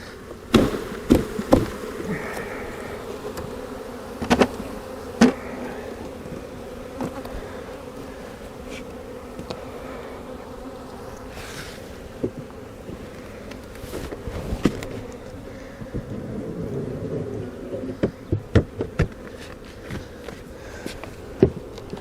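A dense swarm of honeybees buzzes steadily, punctuated by scattered sharp knocks and thumps as a hive frame is shaken nearby.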